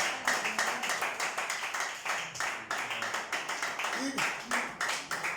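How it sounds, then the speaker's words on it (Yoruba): A church congregation claps for Jesus in quick, regular rhythmic beats, fairly close, while a voice keeps speaking over the clapping. "Clap Jesus."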